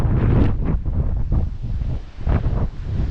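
Strong, roaring wind gusts batter the microphone during Storm Babet in Forfar and Brechin, Scotland, amid flooding and steady rain. The loud, continuous rushing surges and eases in waves, with no talk.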